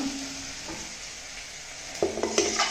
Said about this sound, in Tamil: இப்போது இந்த ஆற வச்சுருக்கிற சாதத்தை இதில் சேர்த்துக்கலாம்.